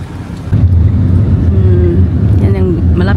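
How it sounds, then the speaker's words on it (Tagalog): A vehicle rolls past on a road in Cebu, Philippines, near the sea, its low engine rumble steady and fairly close beneath overlapping voices. "Ay, may sasakyan."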